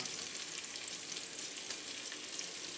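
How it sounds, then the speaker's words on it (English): Chopped onion and fennel sizzle steadily in oil in a pan, a soft continuous crackle heard up close with no talking. "Give it a little stir so they all get coated in oil."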